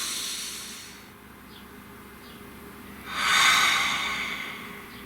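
Deep breathing: a long, soft inhale drifts in, then a louder, breathy exhale swells near the end, close to the microphone and otherwise quiet.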